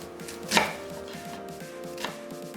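A knife cuts an onion on a cutting board, two distinct chops about one and a half seconds apart with faint kitchen hum and a soft rhythmic tapping in between.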